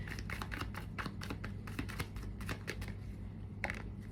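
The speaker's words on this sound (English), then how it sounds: "I'm going to keep shuffling." Tarot cards are shuffled in hand, a quick run of soft riffling flicks and taps in an irregular rhythm, close and quiet over a low steady hum.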